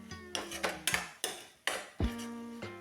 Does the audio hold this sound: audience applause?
no